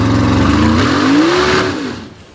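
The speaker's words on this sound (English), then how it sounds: "The Ford-powered rear-engine rail, unfortunately, coming to a halt only a few feet into the pit" A Ford-powered rear-engine dragster at an unlimited-class drag racing event, its engine a loud, close, rough roar whose pitch climbs briefly and then fades as the car coasts to a halt.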